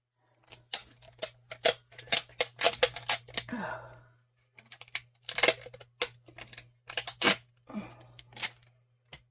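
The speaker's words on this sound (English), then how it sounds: "I have a piece of tape. I'll just stick some tape on it." Strips of tape pulled and stuck onto a small battery-holding part at a desk, giving sharp tearing and crackling bursts in irregular clusters with short pauses, close and fairly loud.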